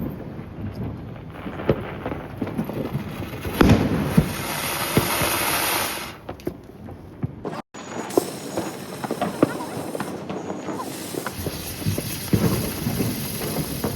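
Diwali firecrackers burst all around, scattered sharp bangs and booms at varying distances over a constant rumbling backdrop, with one brief near-silent break partway through.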